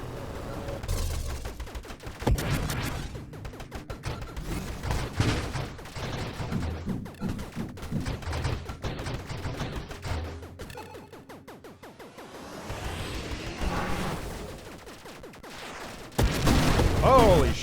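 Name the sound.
friendly turret firing in video game Nova Drift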